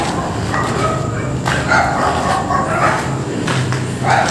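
A dog barks repeatedly in the distance inside an abandoned, unfinished mall building, faint yips and barks echoing over a steady hum of background noise.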